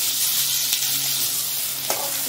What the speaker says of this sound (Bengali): একটু লাল লাল করে ভেজে নিব ততক্ষণ